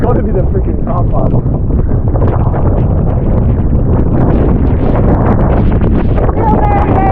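Strong wind roars across a microphone on a Scottish mountain, a loud, continuous buffeting rumble that goes on for the whole stretch while a person speaks underneath.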